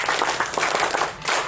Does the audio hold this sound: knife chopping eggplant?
no